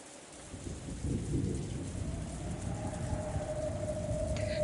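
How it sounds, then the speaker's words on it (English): Steady rain and rolling thunder from the soundtrack of the visual novel Umineko When They Cry, a continuous downpour with a low rumbling swell and a faint sustained tone over it. "Just like the previous night, rain was falling in earnest."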